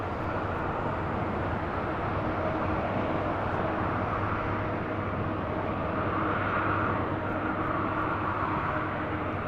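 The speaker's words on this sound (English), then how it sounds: "Iberia, the A350, heading back to Madrid, flight 6170, about to make that left-hand turn onto taxiway Bravo" An Iberia Airbus A350 bound for Madrid taxis at LAX toward taxiway Bravo, its engines producing a continuous, fairly close jet roar and hiss that swells slightly midway, with no talking.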